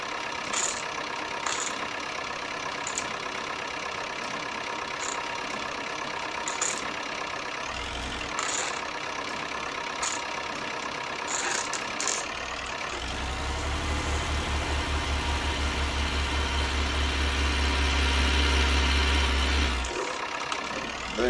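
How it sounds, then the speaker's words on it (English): A tractor with a trailer on a hay field: a steady engine drone runs throughout, swelling into a louder, close low rumble from about thirteen to twenty seconds and then dropping away. "one of the tractors and trailers going forward for that."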